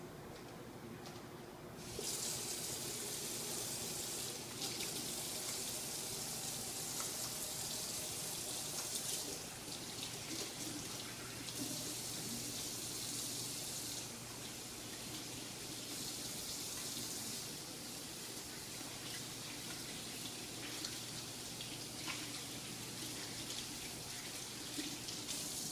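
Water runs steadily from a tap while hands are washed at a sink. It makes a continuous bright splashing hiss that shifts slightly in strength as the hands move under the stream.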